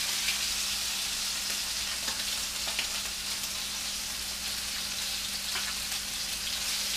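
Puffer fish fry in a pan with a steady, dense sizzle that runs unbroken and fairly loud, a low constant hum beneath it and no voices.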